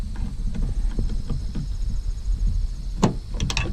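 Liftgate latch on a Chevy Trax being released by pushing a screwdriver up into the mechanism, a short sharp metallic click and clunk near the end over steady low rumbling handling noise, with faint scraping taps before it.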